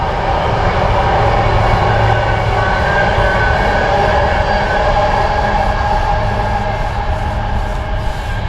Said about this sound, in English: And look, we've got a train.